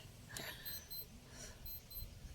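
A wristwatch alarm beeps in short high chirping bursts, two clusters of beeps over a quiet outdoor farm background, faint and close.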